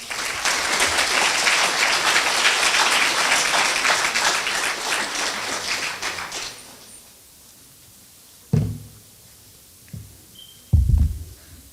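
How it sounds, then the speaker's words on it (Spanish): Audience at a university law faculty event claps loudly and steadily to welcome a speaker, the applause fading out after about six seconds, followed by quiet with a few isolated knocks or bumps. "recibimos con fuertes palmas al doctor Berly López Flores"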